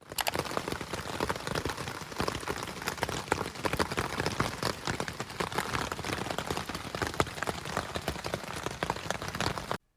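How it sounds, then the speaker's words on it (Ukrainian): Steady rain pours at night on a tent campsite at Bakota, a dense, even patter of drops that holds throughout without any voices. "вночі розпочався дощ"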